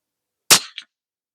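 A single sharp rifle shot from a CZ457 firing Aguila ammunition at a rifle match, loud and close, with a brief tail in otherwise silent surroundings.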